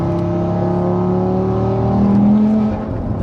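A fully built 770 bhp Audi RS3 hot hatch pulls hard under throttle, a loud, close, continuous engine drone whose pitch climbs steadily as it accelerates.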